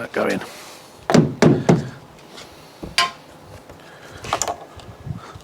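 Several hard thunks and knocks as a door card panel on a salvaged Fiat 500C is pushed and tapped into place, close and uneven, with people talking between the hits.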